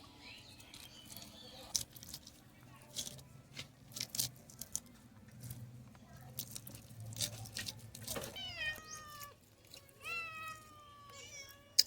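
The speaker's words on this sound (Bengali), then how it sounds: "বিড়ালের মনে হচ্ছে মাছ কাটা হচ্ছে এখানে, আর বিড়াল এসেছে কতগুলো দেখো" Cats meow several times close by near the end, rising and falling cries, after a stretch of quiet tapping and scattered clatter while catla fish is cleaned and cut.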